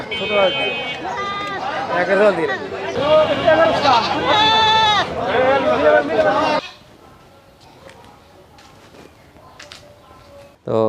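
Goats bleat loudly and repeatedly at close range in a rural setting, several overlapping calls over running footsteps and background voices, then fall quiet.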